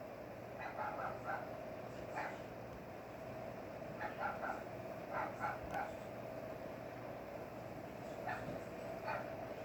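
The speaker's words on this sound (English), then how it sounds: "Dogs, they annoy me." Several short dog barks and yips come in small bursts over a steady background hum, moderately distant rather than close.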